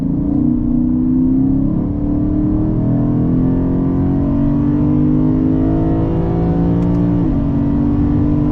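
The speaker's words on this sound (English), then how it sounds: "you slap that 8-speed into manual, you crank this thing up to Sport Plus, you pull it down as many gears as you can, and send it" A 2024 Lexus IS500 with its V8 and 8-speed automatic in manual mode, set to Sport Plus, accelerates hard. The loud, close engine roar climbs through the revs, briefly drops at an upshift, then keeps pulling, with no talking.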